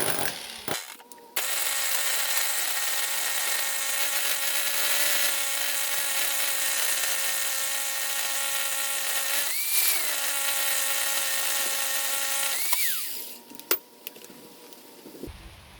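An electric drill bores a hole with a bit, giving a loud, sustained whine that holds steady for about twelve seconds, briefly dips and rises in pitch, then spins down to a stop.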